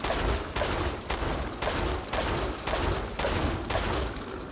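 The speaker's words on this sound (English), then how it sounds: "Couple more shots." Gunfire in Fallout 4's Far Harbor expansion, a steady string of loud shots spaced about half a second apart over a dense, rumbling battle backdrop, with no voices over it.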